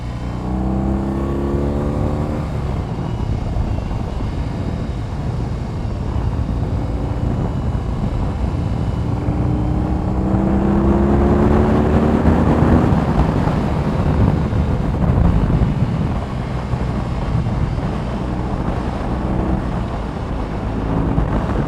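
A 2022 BMW R18 motorcycle engine drones and rises in revs while riding, with steady wind rush over the microphone throughout.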